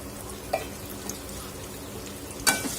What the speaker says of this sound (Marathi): आणि छान याला कांद्याला परतून घ्यायचं आहे आपल्याला